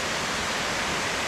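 Stream near Pahanthudawa falls in Sri Lanka pouring strongly, a dense, even roar of rushing water filling the whole moment at close range, with no voices.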